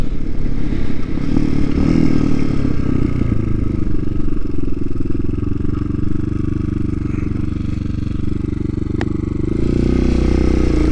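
TaoTao TBR7 dirt bike spinning its rear wheel, a loud continuous engine drone with clattering and scraping throughout.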